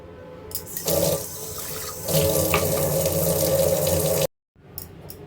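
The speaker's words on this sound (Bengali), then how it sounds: "এই যে জলটা এখানে অ্যাড করে দিচ্ছি" Water pours steadily from a tap into a cooking pot in a kitchen, a close continuous splashing rush for about four seconds that cuts off abruptly, followed by brief faint clinks.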